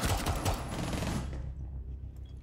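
Rapid hip-fired gunshots from a first-person shooter video game burst out in a fast, dense volley for about a second, then cut off and leave a faint fading tail.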